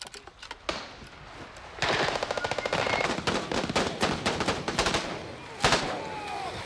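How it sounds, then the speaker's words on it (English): An MG42 machine gun fires long rapid bursts in a film battle scene, loud and close, with dense rattling volleys and a few heavier booms breaking through. "MG42 starts to fire."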